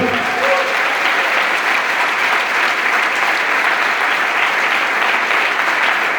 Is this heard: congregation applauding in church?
yes